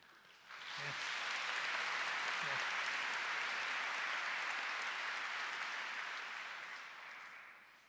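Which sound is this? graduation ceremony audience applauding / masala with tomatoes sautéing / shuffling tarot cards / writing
graduation ceremony audience applauding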